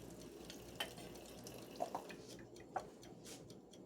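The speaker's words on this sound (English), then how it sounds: "Go ahead and pull some water off my tap." A kitchen tap runs in a steady, faint hiss of water, with a few soft clinks and drips rising briefly above the flow.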